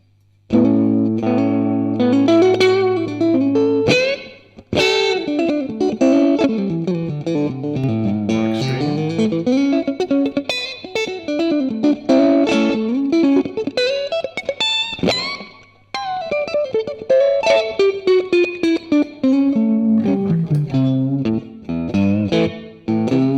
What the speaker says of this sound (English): I love the stereo effect, just slightly different things coming out of each speaker. It just really thickens the sound out